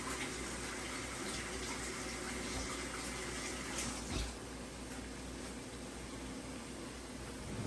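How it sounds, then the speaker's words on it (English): A kitchen tap runs steadily while hands are washed under it during Jamaican ackee and saltfish with dumplings prep, a constant rushing water sound with a small splash near the end, moderately faint, no talking. "So I'm gonna wash my hand."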